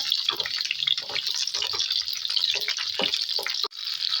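Continuous crackling sizzle of spices and a bay leaf frying in hot oil for a masoor dal tadka, close and fairly loud, with a brief dip near the end.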